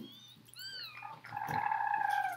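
A voice imitates a kitten, giving a few high, thin mewing cries that rise and fall, the last one longer and louder.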